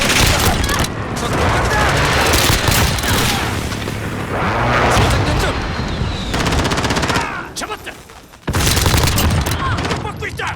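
Rapid Uzi bursts from Call of Duty: Modern Warfare fill the clip, loud and nearly continuous automatic fire with brief gaps, mixed with game effects.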